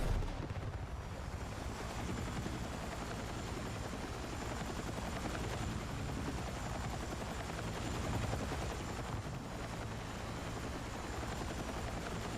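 A helicopter in a video game gives a constant dense rotor rumble throughout, moderately loud and steady, with faint gunfire-like crackle mixed in and no talk.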